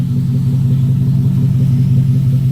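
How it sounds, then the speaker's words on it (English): A 2004 Chevrolet Suburban engine rumbles close and loud in a steady low drone. It is a sustained rev heard with no voices. "Let me give you guys a rev."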